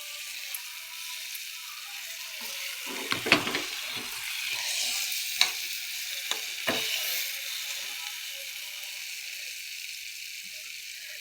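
Tamarind chutney frying in oil gives a soft, steady sizzle with a few sharp clicks and taps of a utensil against the pan.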